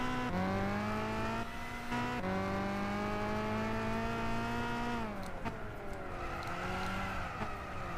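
A Cadillac race car in Gran Turismo 6 drives hard, its engine droning at a steady high pitch, dipping briefly during gear shifts and again near the end with some tire noise, loud and close with no talk.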